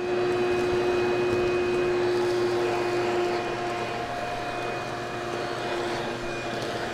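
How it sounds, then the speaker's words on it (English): A shop vac connected by a hose to a bucket dust separator on a blast cabinet, sucking up dust with a loud, steady motor whine and airy roar that holds constant throughout. "let me just hook this hose coming out of the top of the bucket into the shop vac"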